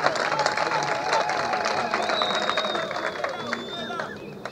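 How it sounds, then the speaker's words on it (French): A crowd at a gathering applauds its national president with busy, continuous clapping, mixed with whistles, shouts and overlapping voices, gradually easing off. "Vos applaudissements, s'il vous plaît."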